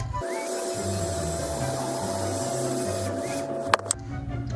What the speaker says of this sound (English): I have this little fan. I don't know the brand. I got it as a gift. Yeah, we're just gonna use this to like dry the primer a bit more.